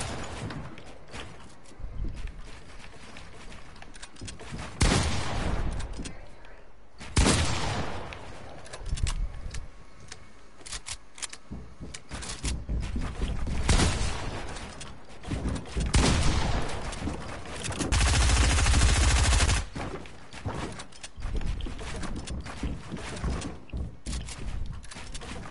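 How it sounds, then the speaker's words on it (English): Shotgun blasts from the video game Fortnite ring out repeatedly in loud bursts, separated by irregular gaps amid a dense spread of game sound and gunfire. "I don't miss shotgun shots"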